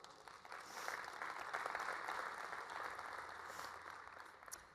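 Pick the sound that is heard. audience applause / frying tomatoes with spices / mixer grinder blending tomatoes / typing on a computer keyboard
audience applause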